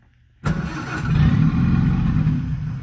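An old Peugeot car engine cranks and fires after a short silence, then settles into a steady, loud, rumbling idle close by.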